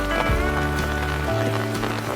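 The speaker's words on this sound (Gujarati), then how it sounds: "તો આખી રાતનો વરસાદ ચાલુ છે અને અત્યારે પણ વરસાદ ચાલુ જ છે કન્ટિન્યુ" Heavy rain falls steadily over waterlogged farm fields after a night-long downpour, a dense loud wash of sound mixed with a low rumble and some tonal background noise.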